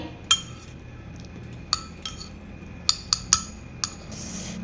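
A metal spoon clinks against a dish or glass while someone eats, giving several sharp, bright taps spaced irregularly over a quiet background, with no talking.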